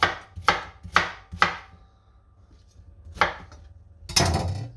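Carrots are cut into big pieces with a knife on a board, giving four quick sharp chops, a pause, then one more chop and a rougher final cut, close and clear with no talking.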